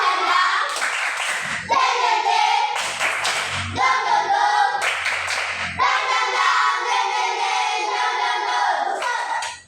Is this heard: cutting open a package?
no